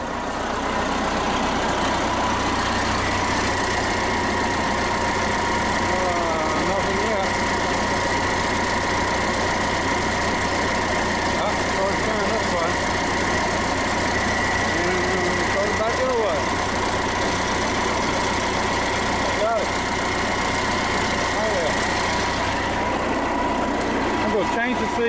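A Case CK580B backhoe engine idles loud and close in a steady low diesel rumble with mechanical rattle, while someone talks intermittently over it.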